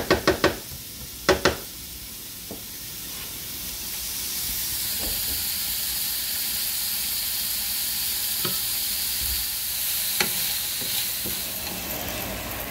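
Chicken stir-frying in a pan until it caramelizes, a continuous loud hiss and sizzle after a few sharp knocks of a utensil at the start, with occasional soft scrapes and taps throughout and no speech.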